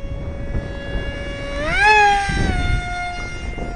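A scratch-built RC F-18 model jet passes close by with a steady tonal whine that swells and rises in pitch midway, then eases back to a lower, even drone.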